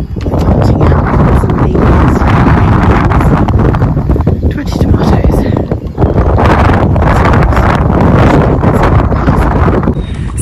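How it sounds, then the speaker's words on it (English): Loud, constant wind roars across the microphone, a dense blustery rush with a short dip near the middle and no clear talking. "it's getting a bit windy now"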